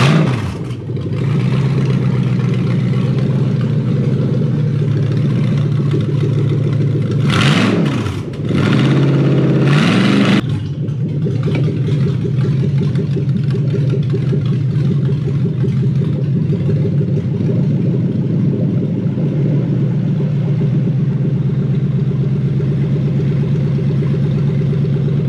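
A Toyota 3UZ V8 swapped into a Hilux runs steadily for the whole stretch, a deep even hum with a few short revs near the middle before it settles back to a smooth idle, close and loud with no talking.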